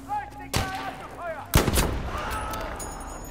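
Two sharp, booming gunshots in Battlefield V on a snowy Norwegian map, about a second apart, each with a ringing tail, among softer game effects.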